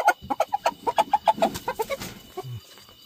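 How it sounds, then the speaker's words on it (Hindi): A broody Kadaknath hen clucks close by, a quick run of rhythmic, throaty clucks that slows and trails off into lower grumbling notes near the end. "तो देखिए कुड़क मुर्गी हमने निकाल ली अपनी"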